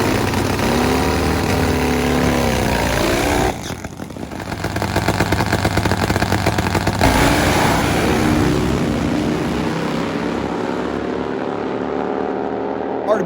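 Pro Fuel Harley V-twin drag motorcycles race with a loud, rasping engine roar. It dips briefly near the four-second mark, then holds a harsh, buzzing high-rev drone before tapering off, with an announcer's voice mixed in.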